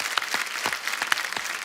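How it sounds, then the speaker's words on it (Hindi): A television comedy show's studio audience breaks into brief, energetic applause for doctors, a lively wash of many hands clapping with a few distinct sharp claps. "तो हमारे डॉक्टर्स के लिए एक बार जोरदार तालियां।"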